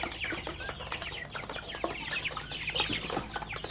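Rhode Island Red breeder chicken clucking among other fowl, with busy, overlapping short clucks and chirps coming steadily from close by, and no talking.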